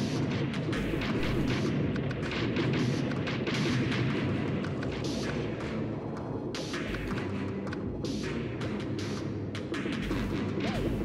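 Bomb explosions in Pac-Man World 2 rumble almost continuously as a thick, crackling barrage of blasts under game music, steady and fairly loud throughout with no pauses.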